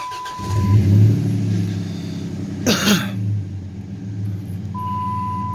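A 2007 Dakota 3.7L engine cranks and catches, then idles with a steady low rumble; a brief higher rasp cuts through midway before the motor settles, with low power steering fluid.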